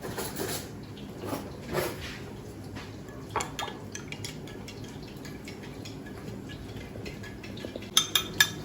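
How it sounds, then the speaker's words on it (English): A spoon mixes ingredients in a bowl for a Berber-style beef tajine, giving light scraping and clinking, with a few sharper clinks of metal on ceramic near the end. "Use a different spoon to mix that all around."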